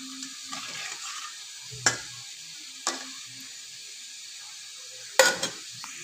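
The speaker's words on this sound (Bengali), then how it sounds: "এটাকে আমি উলট পুলট করে লালচে করে ভাজবো।" Banana blossom cutlets fry in a pan over low heat, with a steady quiet sizzle and a few sharp clicks and taps as they are turned over.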